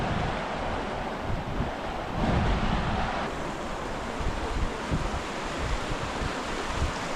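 A river flowing at the bend beside a riverside campsite, a continuous broad rushing wash heard up close, mixed with gusts of wind buffeting the microphone, no voices.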